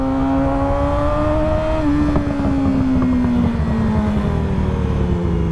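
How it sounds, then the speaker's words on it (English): Motorcycle engine running steadily and revving, with a strong engine tone that climbs and drops across the clip, heard loud and close outdoors with no talking. "I love this bike."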